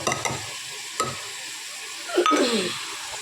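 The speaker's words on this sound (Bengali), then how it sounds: "এটাকে আমার খুব ভালো করে কষিয়ে নিতে হবে" A spice paste of poppy seed and cashew sautés in a pan with a close, steady sizzle. A few firm scraping stirs break through, one at the start, one about a second later and a heavier one near the end, with no talk.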